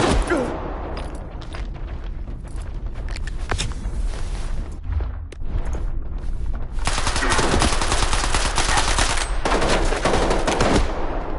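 Loud, rapid bursts of automatic gunfire and single shots crackle almost nonstop, close and harsh, with brief lulls between volleys.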